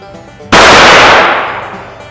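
A single loud firearm shot at a shooting range cracks sharply and close, then rings out and decays over more than a second.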